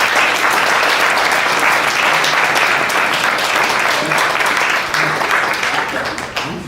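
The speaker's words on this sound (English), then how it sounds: "Another round of applause for Martin, Taylor and Ceri Hann." Loud, sustained applause from a large audience at the end of a talk fills the space, holding steady before easing slightly toward the end.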